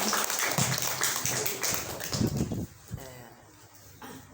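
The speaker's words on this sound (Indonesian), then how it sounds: "tepuk tangan buat Mbak Devina" Applause for Mbak Devina at a book-sharing gathering, a dense burst of many hands clapping that fades out after a few seconds, with light room noise remaining.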